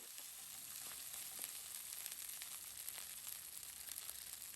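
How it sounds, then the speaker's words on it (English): Finely chopped garlic fries in a very hot pan for a chicken and cashew stir fry, a soft, even hiss with light crackle and quick stirring scrapes, no voices. "we're just going to fry that for a few seconds while the pan is really hot"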